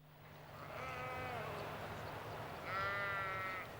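Sheep on a farm, kept for wool and meat, bleat twice in drawn-out wavering calls, one near the start and another toward the end, over a steady outdoor background hum.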